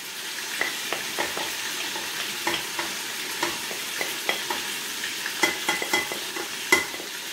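A spoon stirs paprika, salt, cumin and couscous spices into vegetables frying gently in a pan, giving a continuous low sizzle with regular scraping strokes up close and no voices.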